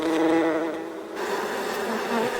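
Bees buzz around a hive entrance, a dense, steady insect drone with overlapping wingbeat tones that swells and eases slightly over a couple of seconds, close and continuous.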